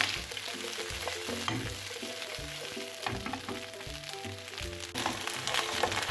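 Steady sizzling of chicken pieces frying in a pan, with clinks and stirring noises over a broad hiss, close and fairly loud throughout.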